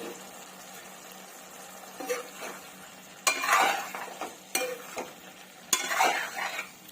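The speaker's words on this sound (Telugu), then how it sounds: "ఒకసారి ఇవన్నీ కూడా కలిపేసుకుందాము." A spoon scrapes and stirs spiced potato curry with coriander powder in a pan, a few distinct scraping strokes over a faint background sizzle, close up and without speech.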